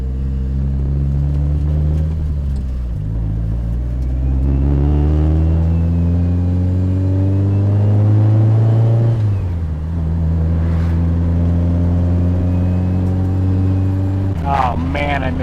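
Mitsubishi Evo 8 with a new engine driving, a loud close rumble rising through several gear pulls with drops between shifts, a person talking over it.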